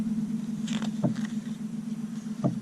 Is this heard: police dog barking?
no